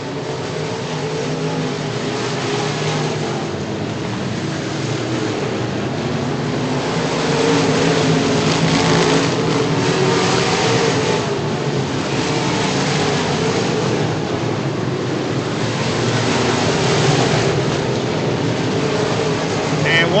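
Modified race cars roar around Virginia Motor Speedway in a steady, loud engine drone that swells midway, with an announcer talking over the pack throughout.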